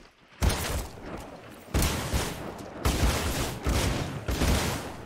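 Five loud, booming Mastiff shotgun blasts in Apex Legends Mobile, fired at roughly one-second intervals, each a sharp punchy crack with a short decaying tail, no talk over them.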